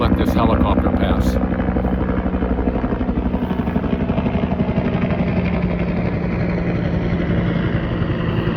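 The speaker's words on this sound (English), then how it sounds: "I'm going to let this helicopter pass." A helicopter passes overhead, its steady low rotor thump loud throughout and slowly easing off, with a voice speaking briefly near the start.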